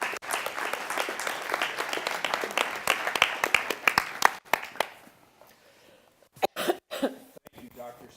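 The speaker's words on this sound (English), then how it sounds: "Can we give the mayor a hand?" An audience at a community gathering applauds to welcome the mayor, a burst of steady clapping that fades after about five seconds into scattered claps, coughs and throat clearing.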